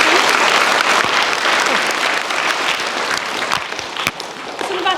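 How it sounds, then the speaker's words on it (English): Audience at a talk about an Everest Base Camp trek applauding, dense sustained clapping from many hands that stays loud and even, then eases slightly toward the end. "Can we give Vivaan a big round of applause?"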